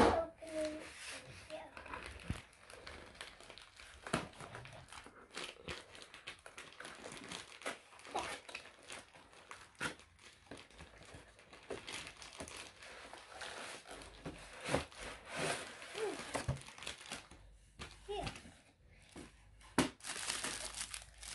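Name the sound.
paper wrapping being crinkled and removed from a package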